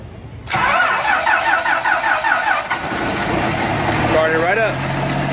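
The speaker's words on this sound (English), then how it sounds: "we're completely dead, and bus started right up" A diesel city transit bus engine cranks briefly on a 12V 600-amp jump starter, then catches and settles into a steady loud idle, with people talking over it.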